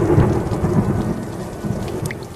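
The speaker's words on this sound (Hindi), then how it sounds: "मूसलाधार बारिश शुरू हो जाती है।" Heavy downpour in a raging storm, dense steady rain roaring close by with low rumbling thunder underneath, no voices.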